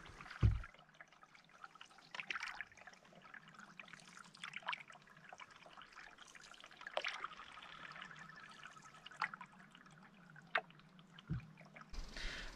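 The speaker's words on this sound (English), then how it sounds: "Looks like this is the creek here." A small creek trickles and flows into a river in the Yukon wilderness, heard from a canoe; a steady, fairly quiet babble of water with a few louder splashes and knocks, and no talk.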